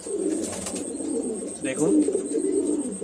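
A pair of Lambati pigeons coo in a loft, their low, soft, repeated coos running steadily under a man's nearby speech.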